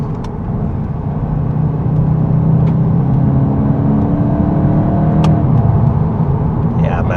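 A 2026 VW Golf 8.5 GTI pulls hard in gear from inside the cabin, its steady engine drone and road roar rising slightly as it accelerates, loud and continuous throughout.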